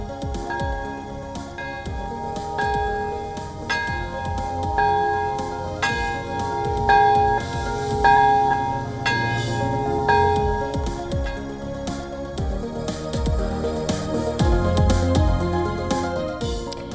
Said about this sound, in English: Twin cathedral bells also rang in unison for the first time since the bombing, in a message of peace to the world.